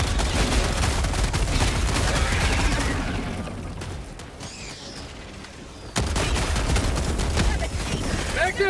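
Dense gunfire and blasts in the Helldivers 2 video game, with a grenade explosion amid continuous rapid shooting, loud and close, easing briefly before another heavy burst; a voice talks through it.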